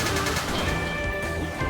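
Rapid gunfire rattles away at a shooting gallery in a post-apocalyptic video game, a steady stream of close shots over a constant game backdrop.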